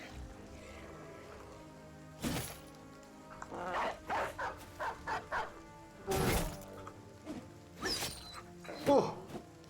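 A dog sneezes in two or three sharp, abrupt bursts, spaced a few seconds apart, among scattered yips and other dog sounds. A voice talks in between.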